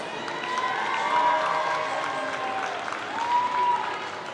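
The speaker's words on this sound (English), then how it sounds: "Let's give the St. Louis Rams a big round of applause." A crowd at an NFL Flag youth championship for an 11-12 coed team applauds and cheers, with high shouts and whoops rising over steady clapping from a moderately distant crowd.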